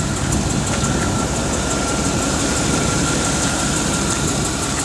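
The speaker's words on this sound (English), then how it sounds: "It's an exhaust. Of course, headers, not manifold," Exhaust of a 1994 Chevy truck with a 350 V8 and headers, a steady, loud, low idle rumble that holds constant throughout with no talking.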